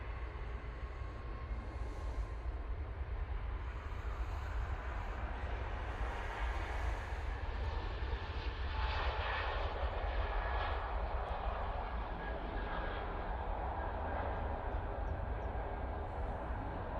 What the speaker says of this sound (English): using the 320neo for this flight for EasyJet.